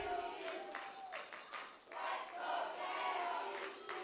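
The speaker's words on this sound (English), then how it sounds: "Crowd now starting to get behind their team." Crowd at a women's rugby national championship match in Canada cheering and shouting from a distance, a fairly faint, continuous roar with swells of voices.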